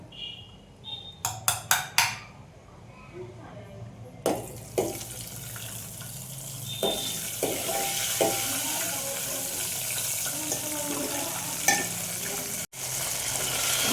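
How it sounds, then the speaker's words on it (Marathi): Cashews and almonds roasting in a pan over very low heat: a burst of sharp clattering knocks as the nuts drop in, then a growing sizzle with intermittent scraping stirs. "काजू बदाम परतून घेतोय."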